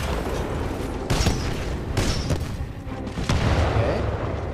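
Titanfall 2 combat with a frag grenade going off amid several sharp impacts and booms over a constant mechanical, rumbling background, moderately loud and close.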